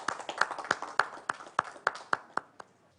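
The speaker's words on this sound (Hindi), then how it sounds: "हम जोरदार तालियों के बीच में स्वागत करते हैं" At a Hindi poetry gathering, a single pair of hands claps about ten times in a steady rhythm, crisp and close, slowing and fading toward the end.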